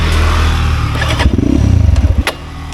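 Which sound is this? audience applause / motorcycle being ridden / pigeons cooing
motorcycle being ridden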